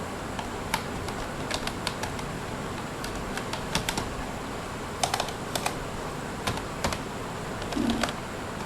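A website name is typed on a computer keyboard in quick, irregular runs of crisp key clicks over a faint steady room hiss.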